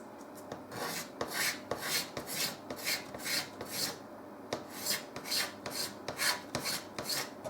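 Mock tortoise shell plastic being cut for a bass guitar pickguard, a steady rhythm of close, rasping strokes, each one a short scratchy burst, with no voices.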